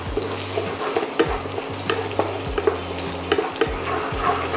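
Chopped garlic stir-frying in a pan for Thai beef and holy basil fried rice, a steady close sizzle broken by repeated scraping stirs of a utensil against the pan, with no talking.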